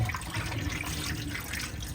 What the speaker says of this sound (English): We're going to drain the water off.